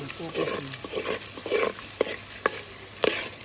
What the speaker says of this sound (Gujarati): ચમચી કરીને હલાવતા રહીશું